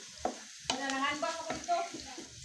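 Sisig sautéing in margarine with chillies, a soft close sizzle broken by a few scraping and clinking stirs of a utensil against the pan.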